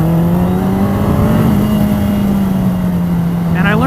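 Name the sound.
motorcycle being ridden on a track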